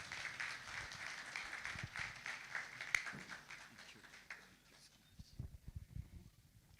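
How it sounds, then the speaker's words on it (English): Conference audience applause for a keynote speaker, a broad wash of clapping that thins out partway through, followed by scattered footsteps and murmuring voices. "Please, a big round of applause to our keynote speaker."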